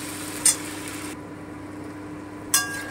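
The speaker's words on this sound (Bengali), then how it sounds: "এবারে আমি কচুটা দিয়ে দিচ্ছি। এবার আমি একটু ভেজে নিচ্ছি," Pieces of gati kachu taro browning in oil in a pan give a quiet, steady sizzle, broken by two brief sharp clinks.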